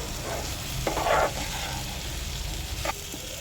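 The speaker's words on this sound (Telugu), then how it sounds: "ఎరగకుండా జాగ్రత్తగా కలుపుకోవాలి" Amaranth-leaf and liver curry is stirred in a pan, a low sizzle under a couple of brief scraping strokes of the spoon, close and steady with no voices.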